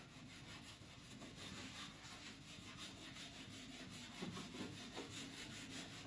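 A steady, rhythmic scraping and rasping of a cake leveler's fine saw blade drawn back and forth through a cake, close and continuous for several seconds.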